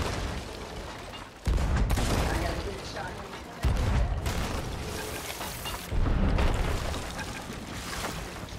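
Cannon fire in a video game naval battle between sailing ships, with three heavy booming bursts spaced a couple of seconds apart over continuous rumbling battle noise and voices talking.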